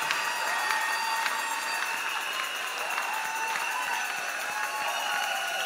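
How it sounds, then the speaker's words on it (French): A church congregation at a celebration for church servants applauding, steady sustained clapping mixed with crowd cheers at moderate distance, continuous throughout with no clear break. "on acclame fort pour la gloire du Seigneur"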